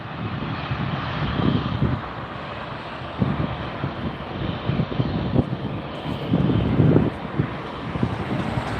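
Airliner departing from Tampa Airport, a steady, moderately loud jet roar with rumbling low-end surges and wind buffeting, heard from a distance with no voices.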